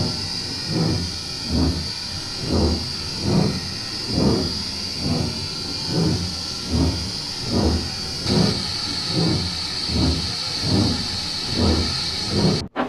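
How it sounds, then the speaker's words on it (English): Steady rhythmic chuffing of a steam locomotive pulling away, regular puffs over a continuous hiss of steam, close and loud with no talking. "The guard blew his whistle when all was ready, and Henry departed"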